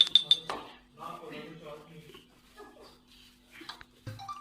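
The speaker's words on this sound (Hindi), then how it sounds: "अब हम अपने ज़ाफ़रान को थोड़ा सा मिक्स कर लेंगे" A spoon clinks a few times against a small dish while stirring a saffron mixture, bright metallic taps mostly at the start, while a voice talks over and between them.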